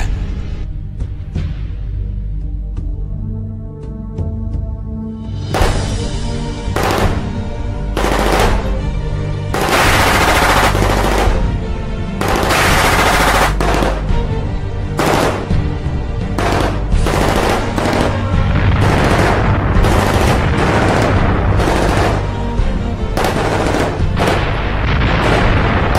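A dramatized wartime attack on Maguwo airfield brings rapid bursts of machine-gun fire and booming bomb blasts, loud and close, in repeated volleys over a droning background of aircraft noise.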